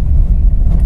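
A car's engine in second gear with the accelerator pressed, giving a loud, close, low rumbling drone, heavy and steady throughout a brief moment, with wind buffeting the microphone.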